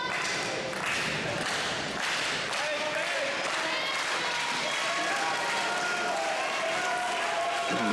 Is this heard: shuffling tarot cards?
no